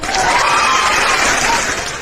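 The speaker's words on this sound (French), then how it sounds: "Bon, on t'applaudit, hein?" Audience at an evening talk event on the situation in Gabon applauds and cheers, a dense steady wash of clapping and voices filling the whole stretch at close range with no pauses.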